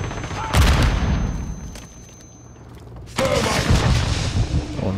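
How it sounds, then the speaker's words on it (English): A stun grenade goes off in a first-person shooter video game with a loud, sharp blast, a brief quieter stretch, then a second burst of loud gunfire and booming clatter. "Stun grenade!"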